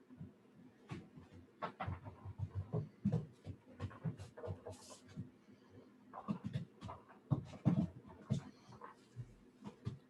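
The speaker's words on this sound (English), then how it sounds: "That's like a 10-pound dog going nuts upstairs." A small dog of about 10 pounds goes wild upstairs above a basement, with muffled panting, scuffling and thumps in irregular bursts. The sounds are faint and distant through the floor, and no one speaks.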